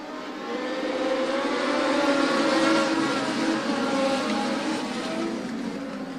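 Legends race cars circle a speedway at the start of a feature race, a loud, sustained engine roar rising and falling slightly as the pack passes, with no voices.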